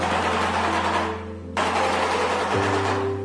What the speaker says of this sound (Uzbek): Kit boshi. Bu qushning ovozini eshitsanglar,